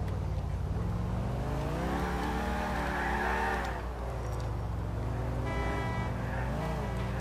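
A car driven in the video game Grand Theft Auto IV, Roman's car, holds a loud, steady engine drone that rises and falls in pitch as it accelerates and shifts. Brief higher tonal game sounds break in near the end.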